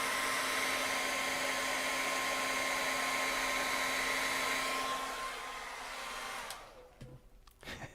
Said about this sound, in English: I'm just going to pop the hairdryer over that guy for a second